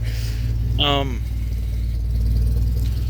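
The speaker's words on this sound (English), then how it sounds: "I'm pretty sure it's the AC compressor." A grumbling AC compressor in a car's engine bay: a steady low engine drone throughout, with a brief rising squeal near the start.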